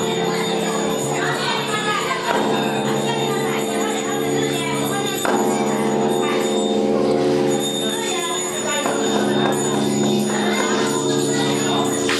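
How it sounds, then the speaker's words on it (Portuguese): Mingun bell, the largest hanging bell in the world at about 90 tonnes, ringing at the temple site in Myanmar; loud sustained metallic tones with several fresh strikes over long lingering hum, amid background crowd noise and voices. "O sino de Mingun tem um peso total de 90 toneladas"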